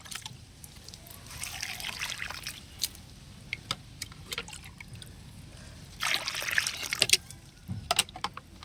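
Water poured onto loosened soil around a tall champak plant, heard as soft trickling and splashing in uneven bursts with brief gaps, moderately close, without talk.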